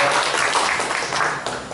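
Applause from a crowd at a members' singing contest, a dense, steady wash of many hands clapping throughout the short stretch, loud and close with no voices over it.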